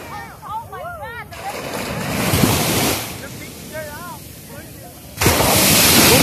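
High ocean surf at night in Dubai, a loud continuous wash of waves with strong wind buffeting the microphone, swelling and breaking again near the end, with whistling and faint voices.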